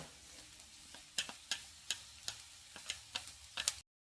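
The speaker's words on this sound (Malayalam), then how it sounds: "നല്ലോണം ഒന്ന് വഴറ്റിയെടുക്കണം" Chopped small and big onions with curry leaves sauté in a pan for a prawn theeyal, a soft sizzle broken by regular sharp spatula scrapes and taps about twice a second, close and without talk.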